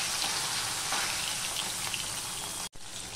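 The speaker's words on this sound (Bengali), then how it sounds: "চলো বেলে মাছগুলো আমি ভেজে নিই।" Bele fish frying in a pan of hot oil, a steady dense sizzle with faint popping crackles throughout, close and alone, briefly cut off near the end.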